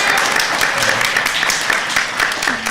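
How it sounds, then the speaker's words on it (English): Audience applause for a comics summit panel, a dense, loud, continuous spatter of clapping from a crowd, with a faint voice near the end. "Round of applause for Ned, our go-to chauffeur."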